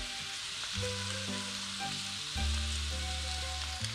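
Minced meat frying in a pan for Bolognese sauce, a steady close sizzle and crackle that runs throughout without speech.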